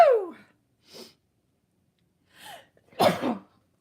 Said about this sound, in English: Going to sneeze here in a second.